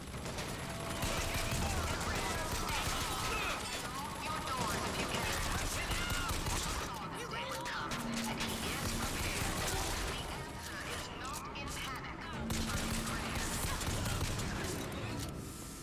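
Sustained turret gunfire rattles in near-continuous bursts in a Bioshock Infinite combat scene, loud and dense throughout, with a voice talking over it at times.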